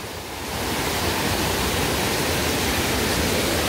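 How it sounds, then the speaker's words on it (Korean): A mountain-valley waterfall crashes down in a steady, dense rush of falling water that rises quickly at the start and then holds loud and close. "저기 폭포예요"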